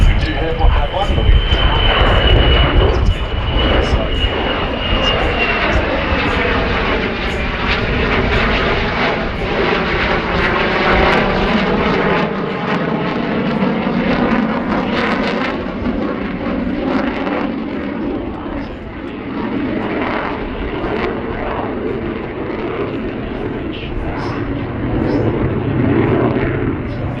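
A Royal Australian Air Force Lockheed Martin F-35A makes a display pass at an airshow, a loud sustained jet roar with shifting pitch that fills the whole stretch, with a commentator talking over it.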